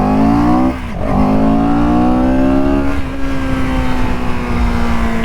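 A CFMOTO CLX 700 motorcycle accelerates hard, its engine tone climbing through the revs with a brief dip at a gear change, loud and close throughout.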